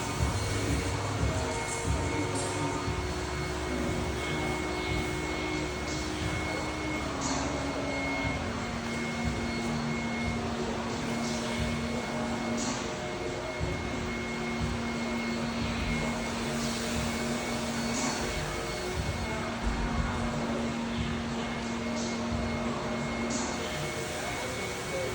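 A vacuum cleaner runs loud and close the whole time, a continuous droning whine with slight shifts in pitch as the cleaning moves around.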